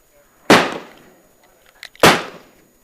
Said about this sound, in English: I'm going to run two more through on Underwood for the errors that occurred.